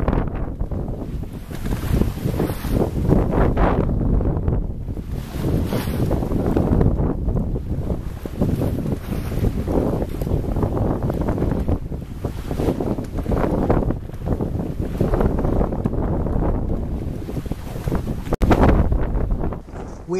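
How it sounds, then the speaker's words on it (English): A sailboat with main and mizzen sails runs directly before the wind at sea, giving a continuous loud rush of wind, water and hull noise with buffeting on the microphone and no clear talk. "So we alter course, falling off until we're running directly before the wind"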